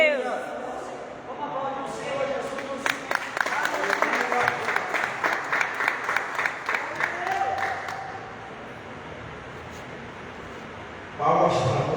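A church congregation breaks into applause during a service, sustained clapping rising between speech at the start and a voice resuming at the end.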